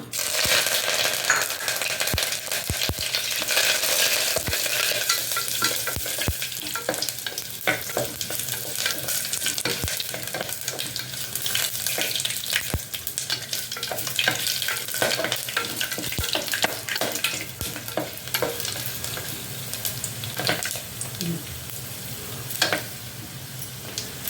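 Urad dal, mustard seeds, cumin, dried red chillies and garlic fry in hot oil in a pan, giving a continuous close sizzle and crackle with frequent sharp pops and occasional clinks of a stirring spoon.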